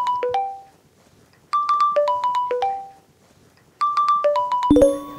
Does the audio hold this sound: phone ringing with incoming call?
yes